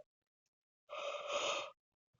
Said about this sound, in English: sorry for yawning.